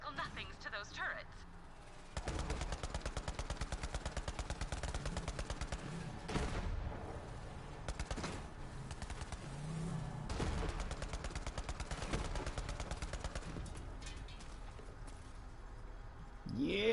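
Rapid gunfire from enemy vehicles in the Borderlands 3 video game rattles in dense repeated bursts, steady and fairly loud through most of the stretch, with sharper impacts standing out and game noise mixed in.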